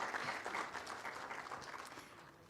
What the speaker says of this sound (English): A huge, huge round of applause, please, ladies and gentlemen